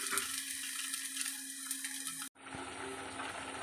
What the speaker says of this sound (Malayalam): നമ്മൾ എണ്ണ ഒഴിച്ച് നമ്മുടെ കിഴങ്ങ്, വഴുതനങ്ങ, പച്ചമുളക്, സവാള ഇതെല്ലാം കൂടി നമ്മളൊന്ന് വാട്ടിയിട്ട്